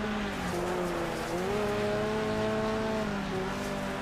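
A car drifting in Next Car Game on a race track, with a sustained tire squeal sliding in pitch over a droning engine, loud and continuous.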